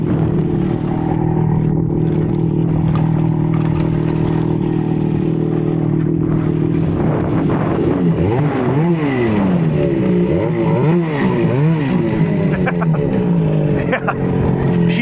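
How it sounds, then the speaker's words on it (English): A kids' 200 snowmobile idles steadily and then gets small bursts of gas, its engine rising and falling in pitch several times as it pulls through a gate, close by, with voices talking over it. "Leah, when I open the gate, give it a little bit of gas to drive it through, okay?"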